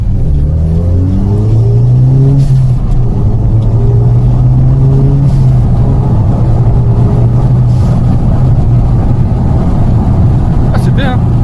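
Volkswagen Golf 5 GTI with its 2.0 TFSI engine revving, rising and falling pitch sweeps repeating over a constant loud drone, close by, with people talking over it.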